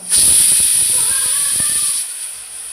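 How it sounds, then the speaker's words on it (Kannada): A pressure cooker whistle releases steam in one loud, close, continuous high hiss lasting about two seconds, then drops off abruptly to a faint rumble. "cooker sound"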